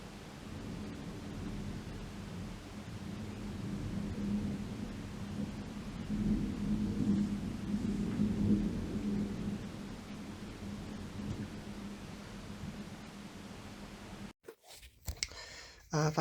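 A massive thunderstorm in Leicestershire, UK brings a long, low rolling rumble of thunder that swells and fades under a steady wash of rain, then breaks off into brief handling noise.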